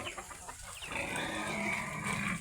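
Native chickens clucking and calling nearby on a farm, a short burst of fowl vocalizing over a low outdoor background.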